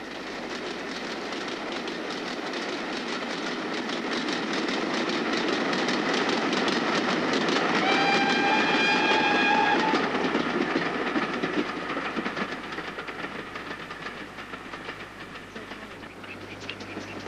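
A steam train, the Cambrian Coast Express, rumbles steadily along the rails entering Borth, growing louder as it passes close by with rhythmic clatter and a brief high wheel squeal, then fading.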